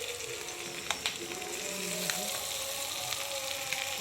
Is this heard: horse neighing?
no